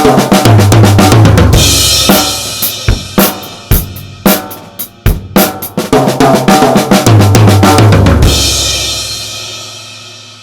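A fast drum fill played on a drum kit: rapid sixteenth-note strokes rolling around the toms and snare, loud and close, bookended by sustained cymbal crashes, with no talking.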